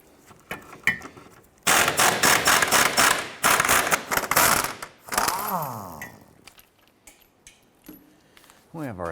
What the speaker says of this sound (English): let's go ahead and get to these bolts using a 15mm socket in our impact gun